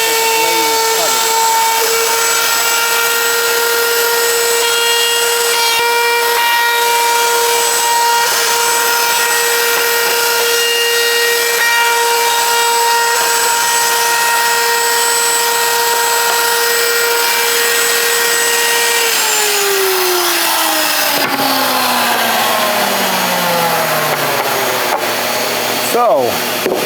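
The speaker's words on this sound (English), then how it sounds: "So we get this started and we move in the direction that the blade is cutting." A power saw runs at a steady, high whine as its blade cuts through a wooden board, holding one loud pitch for a long stretch before winding down and dropping in tone near the end.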